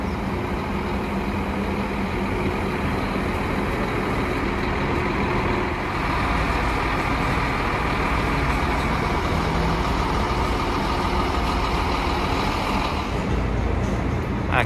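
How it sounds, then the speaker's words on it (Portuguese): Mascarello Roma R8 coach with a Scania engine at a bus station in Goiânia, heard as a steady, loud diesel idle and rumble with continuous traffic noise throughout. "a Hélios utilizando carroceria Mascarello Roma R8 com motor Scania"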